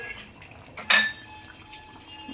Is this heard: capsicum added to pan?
yes